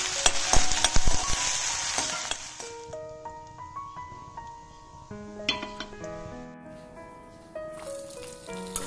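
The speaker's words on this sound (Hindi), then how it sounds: "फ्रेंच बीन्स को यहाँ पे मैंने फ्राई करने के लिए छोड़ दिया है, इसको अच्छे से पकाना है।" French beans frying with turmeric in desi ghee in a kadhai, a sizzle with scraping stirs and metallic clinks of a spoon against the pan, close up.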